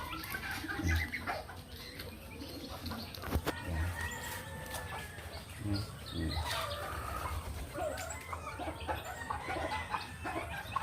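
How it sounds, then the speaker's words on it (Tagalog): Chickens cluck and a rooster calls in a busy backyard farm, with faint wing flaps and other birds, including pigeons, chirping in the background. "Alagang manok, ibon at kalapate."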